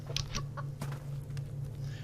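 Chickens in a pen in the Subsistence video game give a few short, clipped clucks spaced irregularly over a steady low hum, faint to moderate and close by.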